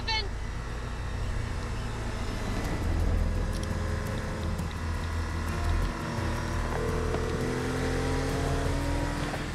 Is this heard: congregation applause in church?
no